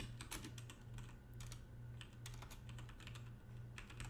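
Typing on a computer keyboard, quiet and close, with a steady run of rapid key clicks and short pauses between bursts, heard alone against a low background hum.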